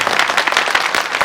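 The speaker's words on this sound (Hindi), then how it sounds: "इनके लिए एक बार ताली बजा दो।" A gathering at a Shrimad Bhagavat Katha religious discourse claps for the performers, a short burst of dense, overlapping applause from many hands at close range.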